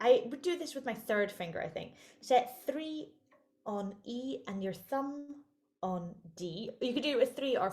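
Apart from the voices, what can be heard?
No everyday noises stand out.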